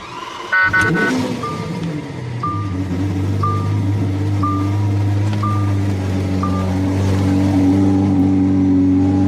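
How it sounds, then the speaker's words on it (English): A supercar's engine cold-starts with a sharp crack, then settles into a loud, deep, steady idle, while a short electronic beep repeats about once a second. "And the cold start on this car is insane. Listen to this cold start."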